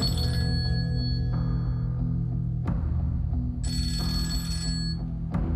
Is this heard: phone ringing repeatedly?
yes